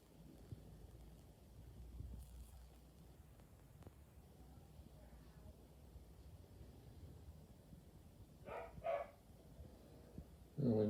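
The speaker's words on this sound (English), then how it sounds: "We might get a bark in the background." A dog barks a few times in the background, brief faint yaps near the end against a quiet room with low wind-like noise.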